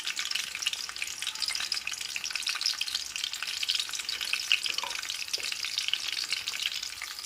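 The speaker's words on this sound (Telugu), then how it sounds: "ఆయిల్ వేడైన తర్వాత మనం తరిగి పెట్టుకున్న పచ్చిమిర్చి, వెల్లుల్లి, అలాగే కొంచెం అల్లం" Chopped green chillies, garlic and a little ginger sizzle in hot oil for veg fried rice, a loud, continuous bright crackle and spatter with occasional stirring, close up and with no voices.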